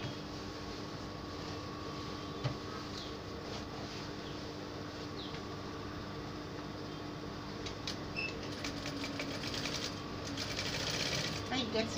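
A sewing machine stitches the side seam of a dress, a continuous fairly quiet motor hum with fast needle ticking throughout, with soft background noise and some handling sounds near the end.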